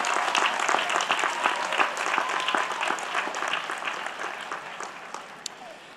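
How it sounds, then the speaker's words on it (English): Audience at a university graduation ceremony applauds warmly, with dense, crisp clapping from many hands sustained at a moderate level and gradually thinning toward the end. "Please join me in applauding these wonderful, great people."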